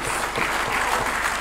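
Audience in the National Assembly applauding, a dense continuous wash of many hands clapping at close range, steady throughout with no voices on top.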